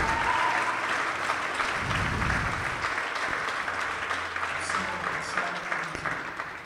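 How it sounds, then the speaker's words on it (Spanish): A church audience breaks into sustained applause, dense and fairly loud, filling the room evenly and tapering slightly toward the end. "Un aplauso, un aplauso."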